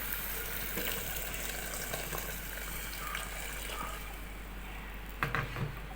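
Water pours into a mango fish curry in a pot, a steady gushing stream that fills the pan, ending with a couple of brief splashes and clinks.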